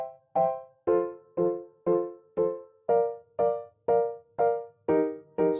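Left-hand piano chords moving down by fifths and up by fourths through major keys, heard alone: eleven evenly spaced, sustained chords, each struck firmly and decaying before the next.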